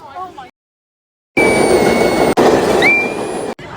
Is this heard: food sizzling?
no